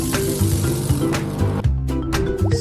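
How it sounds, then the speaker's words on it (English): A drip coffee maker pumps hot water up with steam bubbles, giving irregular close gurgles, hissing spurts and wet squelches in quick bursts. "Steam bubbles pump the hot water up."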